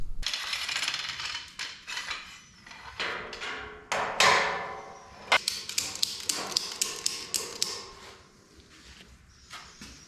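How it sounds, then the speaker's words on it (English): A ratchet tightens bolts on a heim joint plate during a chassis build, with quick clicking strokes and metallic taps in bursts, close up and moderately loud, with no talking. "I'm gonna bolt my other heim joints into this plate. And I tighten the bolts down."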